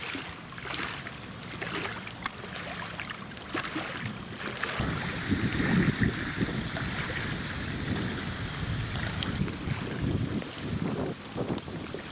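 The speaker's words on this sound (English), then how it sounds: "we got a boat coming down, right down the middle of the river" A steady wash of engine drone and water noise as a boat passes down the middle of the Susquehanna River near Chickies Rock, with wind buffeting the microphone throughout.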